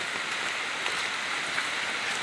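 Rain falls steadily during a crab-catching outing, a close, even hiss of drops pattering on surfaces with no breaks and no voices.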